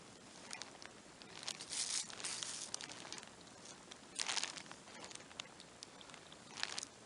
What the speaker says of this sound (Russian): Опять дождь начинается.